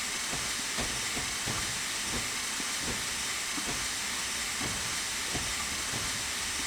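A steam freight train passes through without stopping in Train Simulator Classic on the Somerset & Dorset Joint Railway, giving a steady loud hiss and rumble with regular wheel beats over rail joints. No voices are heard.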